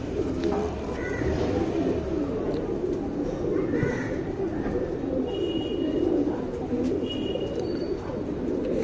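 A racing pigeon coos steadily and close up, with other birds chirping faintly in the background and some speech heard at times.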